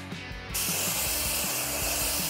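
A spray can of paint starts hissing after a short pause and keeps up a loud, continuous close spray, with faint rhythmic knocks underneath.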